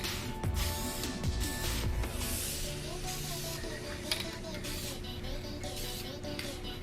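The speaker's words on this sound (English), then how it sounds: "so let's get to spraying." A second coat of spray-on tint goes on in soft hissing bursts from a spray can, fairly faint and close, with some handling noise between passes.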